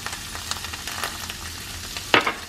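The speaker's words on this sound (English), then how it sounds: "So I'm gonna let that saute for a few minutes" Food seasoned with pepper and salt sizzles and fries in a pan, a soft steady crackle close by, with a few clinks of stirring and one sharper burst near the end.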